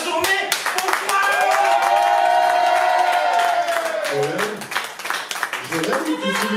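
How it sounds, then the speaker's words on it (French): Applause and cheering from the audience at a French slam poetry evening, loud clapping mixed with whoops and a sustained vocal cry, with talk breaking in as it settles. "Donc je veux vraiment que vous applaudissiez très fort."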